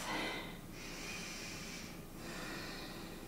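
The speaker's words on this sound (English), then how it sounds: "Breathe through your mouth." Audible breaths during a yoga flow, a forceful airy exhale followed by a second breath cycle, close and breathy over a quiet background.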